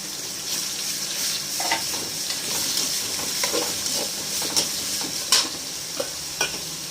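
Onions and turmeric with salt being stirred in a pan for chicken gravy, a steady sizzle with repeated scraping strokes of the spoon, close and continuous, with no talking.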